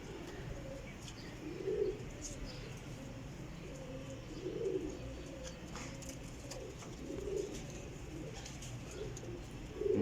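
Pigeons coo softly in a loft, with low rounded calls repeating about every two to three seconds over a quiet background and faint chirps.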